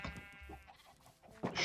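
Sheep at an automatic wool-shearing sheep farm in Minecraft give a few short, soft bleats amid other quiet game sounds, heard up close with no talking.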